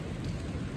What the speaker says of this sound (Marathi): सकाळी सकाळी पाऊस पडतोय.